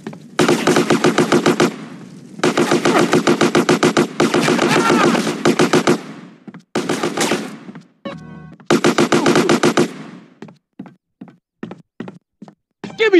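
Automatic gunfire from GTA San Andreas during a final-mission fight, in several long rapid bursts, a couple of short bursts, then a string of single loud shots spaced apart near the end.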